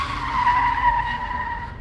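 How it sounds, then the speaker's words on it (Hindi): A car brakes hard and skids to a sudden stop, a loud steady tire screech holding for nearly two seconds over low engine rumble, close and with no talk. "थोड़े ही आगे बढ़ते ही बट्टू ने अपनी गाड़ी को रोक दिया"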